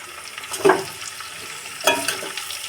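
Winter vegetable pickle of carrot, cauliflower, radish, turnip, chili and peas being mixed with red chili powder and turmeric: two short scraping stirs about a second apart, close and moderately loud, with no voices.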